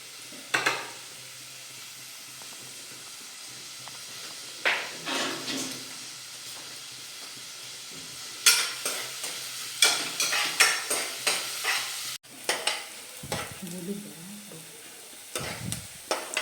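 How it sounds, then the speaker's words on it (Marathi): Onion roasting in a pan, a soft steady sizzle with scraping stirs and clinks of a spoon against the pan coming in bursts, moderately close, no talk. "पहिला कांदा भाजून घेते"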